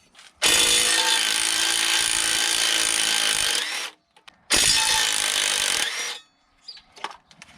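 An air tool whirs in two loud sustained bursts, about three and a half seconds then under two seconds, while torque converter bolts are removed from the flex plate during a transmission swap, with faint clinks afterward.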